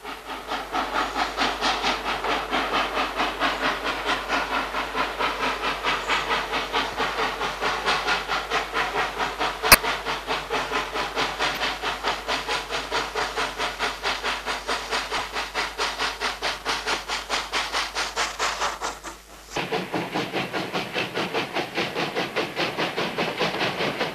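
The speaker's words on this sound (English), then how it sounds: "The incomparably expressive uphill climb by a steam engine." A Polish OL-49 steam locomotive climbs uphill in 1990, its exhaust a loud, steady, rapid chuffing with heavy hiss, one sharp click midway and a brief dip near the end.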